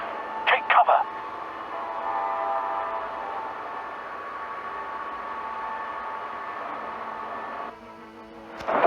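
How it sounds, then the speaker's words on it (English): A train rumbles past in the Batman Telltale Series game, a loud, steady roar of rolling wagons holding for several seconds, then thinning into a lower hum before a sharp burst at the end. "There's a train coming."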